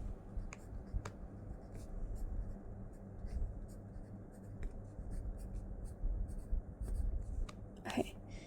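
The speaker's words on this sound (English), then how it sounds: "So I'm going to first write out the formula again." A pen scratches steadily on paper while a maths formula is written out by hand, close and quiet, with occasional light taps over a low background hum and no clear talking.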